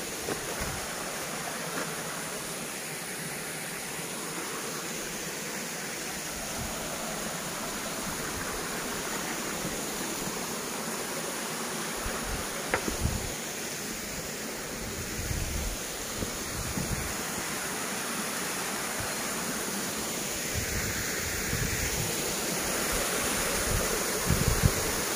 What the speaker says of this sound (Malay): Air terjun boleh tengok.